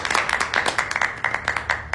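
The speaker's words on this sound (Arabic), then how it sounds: "صفقوا" A small group claps hands in a quick, uneven patter for a couple of seconds, moderately near and fairly soft, with no voices over it.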